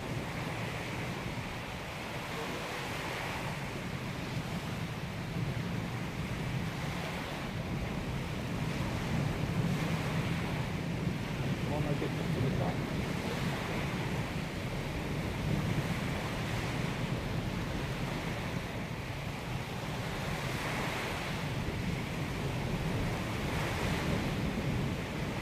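Ocean surf rolls steadily onto the shore in continuous rushing waves, with wind buffeting the microphone throughout, at an outdoor memorial gathering by the sea.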